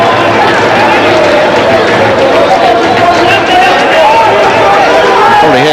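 Loud crowd noise at a hockey match between India and Turkey fills the space, a steady roar of chatter with possible drumming, under a commentator talking throughout.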